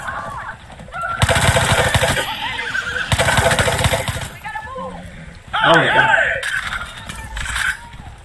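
A horse neighs repeatedly during a ride in Far Cry 6, with loud whinnies arriving in bursts, mixed with game noise and a voice talking in between.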